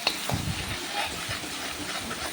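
Ginger garlic paste fries in a pan for a chicken dish, giving a steady, close hiss of frying with a few soft stirring knocks throughout.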